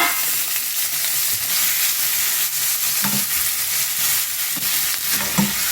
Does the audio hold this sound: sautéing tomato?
yes